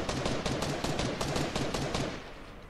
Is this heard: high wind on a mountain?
no